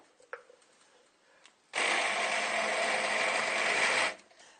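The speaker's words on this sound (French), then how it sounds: "nous allons les mixer." Cooked peas are blended into a purée: after a few faint knocks, a loud, steady motor whir starts abruptly, runs for about two seconds close by, then cuts off.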